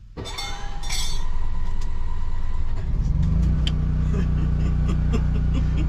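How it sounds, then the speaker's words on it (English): A portable generator at a campsite is cranked over, then catches around the three-second mark and settles into a steady, loud low engine drone, with some clinking and rattling beforehand. "I'm going to use it as a chance to use our generator. Crank it over."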